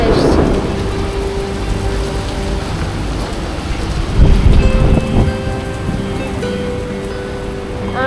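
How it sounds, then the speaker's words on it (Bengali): Heavy rain pours steadily at the Mandarmani seaside during a windy storm, a loud continuous hiss with a low thunder rumble swelling midway, close and enveloping. "অনেক জোরে বৃষ্টি হচ্ছে"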